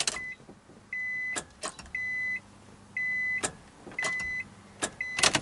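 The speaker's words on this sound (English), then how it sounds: "we'll give the starter a couple of taps. And then we'll try the key again" Starter work on a Honda Integra: an electronic chime pulses in regular bursts while sharp taps and clicks land between them, and the engine never cranks.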